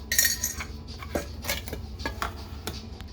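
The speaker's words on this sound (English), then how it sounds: "I got some raw sugar, and I usually put about 3 of these in my cup" Raw sugar going into a coffee cup, a quick run of light clinks and taps of a spoon and small packets against ceramic, close and crisp, with no one talking.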